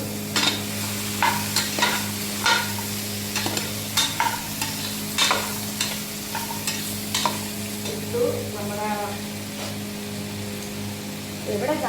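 Carrot and potato fry for sambar in a pan, a constant sizzle underneath with repeated stirring and scraping strokes, while someone talks over the cooking.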